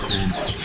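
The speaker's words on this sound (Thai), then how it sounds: "น่าเป็นไก่" A chicken gives a short, loud burst of clucking close by, with no talk over it.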